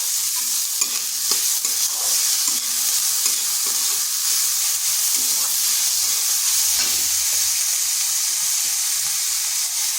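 Grated ginger and garlic fry in hot oil with green chilies, a loud, steady sizzle close by with repeated stirring scrapes and clinks running throughout.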